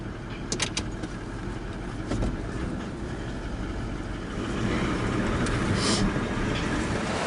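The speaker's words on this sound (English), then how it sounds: "I'll give her a little rev as we go." A 4WD vehicle's engine rumbles on a rough outback bush track near a water crossing, a steady low drone that builds into a firmer rev toward the end, with faint clatter over it.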